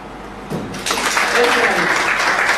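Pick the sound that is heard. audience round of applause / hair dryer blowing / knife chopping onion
audience round of applause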